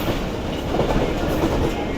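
A Jaffer Express passenger train hauled by a Chinese locomotive rolls along the rails near a river crossing at Jhelum, giving a loud, steady rumble of wheels and carriages throughout.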